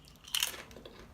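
A bite into a crunchy cheddar and bacon flavored American snack gives one sharp, close crunch followed by a few fainter chewing crackles in a quiet room.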